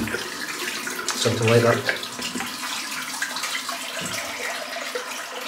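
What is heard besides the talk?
rinsing razor under running tap water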